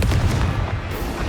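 A brief booming magical blast of the Confringo spell in Hogwarts Legacy, a loud low-heavy burst with crackling noise that rumbles on briefly, without speech.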